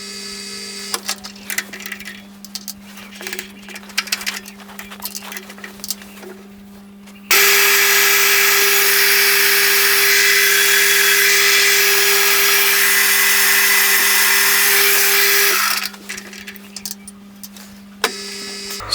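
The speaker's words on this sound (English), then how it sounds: "so I'll drill that out now" A power drill bores a 4.3mm tapping hole in metal for a hot air engine drive axle support, a loud steady whine lasting about eight seconds between quieter workshop handling noises.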